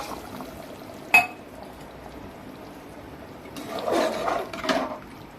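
Water poured from a glass into boneless mutton curry in a pressure cooker: a faint rushing pour swells twice near the end after a single sharp clink, with no talking.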